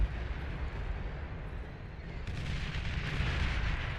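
Artillery fire and explosions in the strategy video game Beyond All Reason, a dense continuous rumble of booming blasts that swells louder toward the end, with no talk over it.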